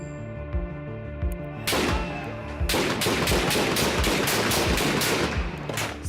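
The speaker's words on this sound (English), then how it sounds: "Same shots." Rapid bursts of automatic gunfire and single shots ring out at a protest outside a parliament, loud and close, continuous volleys with sharp repeated cracks and no talking.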